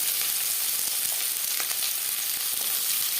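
Four or five chopped onions fry in three spoons of hot refined oil, giving a dense, even crackling sizzle that runs steadily throughout, close up with no talking.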